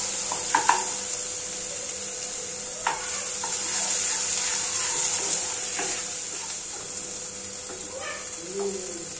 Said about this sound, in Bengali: সমস্ত উপকরণ খুব সুন্দরভাবে এবার নাড়াচাড়া করে কষে নেব।